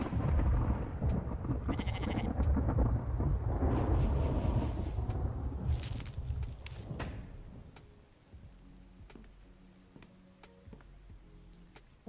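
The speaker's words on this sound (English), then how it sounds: "Why does it rain inside?" Heavy rain roars in the video game The Infected with a deep rumble of thunder that swells, then fades into quieter, steady patter with scattered drips.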